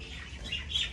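A grounded bird squawks in a brief burst, two harsh, close calls over a low outdoor rumble with no talk.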